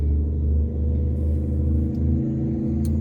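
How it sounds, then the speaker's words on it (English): Heavy low rumble of a loud truck driving past outside, steady and droning for a few seconds with no voices over it. "that was a loud truck that just went by"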